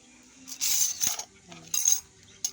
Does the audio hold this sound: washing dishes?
yes